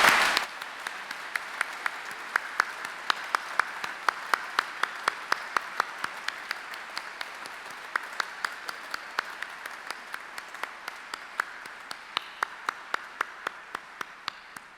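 Steady applause from a crowd at a graduation ceremony fills the whole stretch, a dense patter of many hands with sharper individual claps popping out, moderately distant and continuous.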